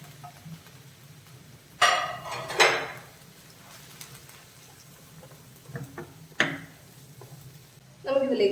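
Cabbage, capsicum, tomato and green chilli sautéed in a pan: intermittent clanks and scrapes of a spoon against the pan with a faint sizzle underneath, close by.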